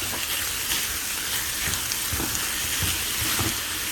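Minced beef frying in hot oil for a pizza topping, a steady dense sizzle with faint stirring scrapes, close and continuous, no voices.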